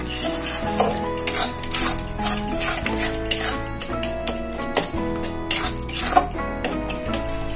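Spice masala for arhar dal khichuri stirred and sautéed in a pan, a spatula scraping and clinking against the metal repeatedly with soft sizzling beneath, fairly close, while tonal music plays throughout.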